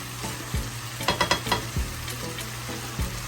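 Ackee and saltfish cooking in a pan, with a steady low sizzle and a few bursts of stirring and scraping clatter in the middle, close and moderately loud.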